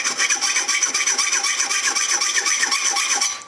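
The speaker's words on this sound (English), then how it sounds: "So I'm just going to take this needle file," Quick back-and-forth strokes of a needle file rasp on a handmade metal key, a close, rhythmic scratching repeated about twenty times without pause.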